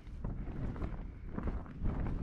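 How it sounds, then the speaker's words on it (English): Strong wind buffets the microphone at a wild campsite on the Scottish border, a steady loud roaring rumble with gusty swells and no voices. "wind is horrendous, picked up"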